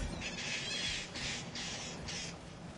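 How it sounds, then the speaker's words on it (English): Harsh bird squawks in Remnant 2, a run of four rasping crow-like caws in quick succession over a steady low game ambience, fairly close and loud. "Bird."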